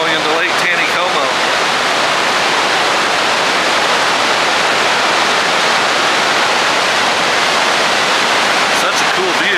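Tons of water pour through the open floodgates of Table Rock Lake Dam into Lake Taneycomo, a loud, unbroken roar heard up close while a person talks over it.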